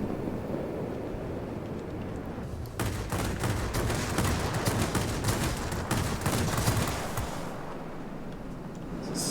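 Aircraft guns on a MiG-9 jet fighter fire in a dense, sustained burst of rapid reports over a steady roar of wind and engine in a heavy storm, then fall away.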